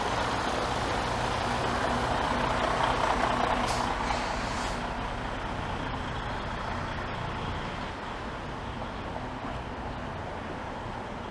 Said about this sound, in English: Why does this big truck need to go so far into the intersection?